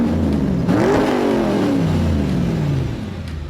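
A CUPRA León hot hatch with a 300 hp engine revs close and loud, rising sharply then sliding down in pitch as the revs fall away.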